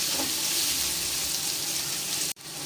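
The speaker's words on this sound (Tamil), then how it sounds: "இதையும் போட்டு நல்லா வதக்கிக்கிறோம்" Steady broadband sizzling of shallots sautéing in a pan, continuous and close, cutting off abruptly near the end.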